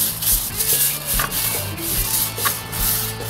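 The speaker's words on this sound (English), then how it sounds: "get your wire brush, dip it in the soap, and get to the wheel wells of the tires" A soapy wire brush scrubs the tires and wheel wells of a motorcycle in quick back-and-forth strokes, close and fairly loud, with no voices.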